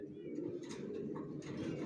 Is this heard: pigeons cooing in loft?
yes